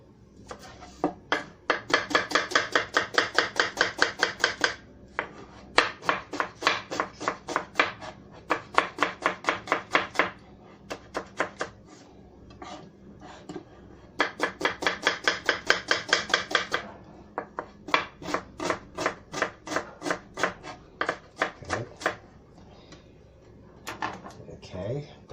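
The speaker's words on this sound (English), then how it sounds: "1 onion, finely chopped." An onion being finely chopped with a knife on a board while cooking spicy beef meatball kebabs: quick rhythmic bursts of close, crisp knife strikes in clusters with short pauses, and someone talking now and then.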